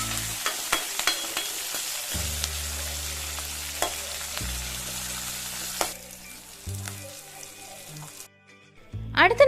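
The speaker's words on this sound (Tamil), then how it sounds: "அடுத்து நம்ம நறுக்கி வச்சிருக்க இஞ்சி, கருவேப்பிலை, கொத்தமல்லி, பச்சை மிளகாயும் போட்டு நல்லா வதக்கிக்கோங்க." Ginger, curry leaves, coriander and green chillies go into hot oil for rava upma. They sizzle in bursts as they are stirred, with scraping in between, and quiet pauses near the end.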